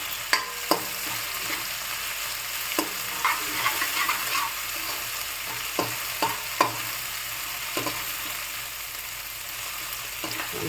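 Onion, tomato, ginger-chilli and garlic paste with spices sautéing in a pan, a continuous moderate sizzle punctuated by scattered spatula taps and scrapes, close and without speech.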